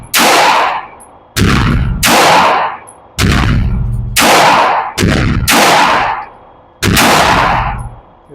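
An RIA .45 ACP pistol fires at a target in a run of seven loud, close shots spaced roughly a second apart, each a sharp blast with a ringing tail and no talk between them.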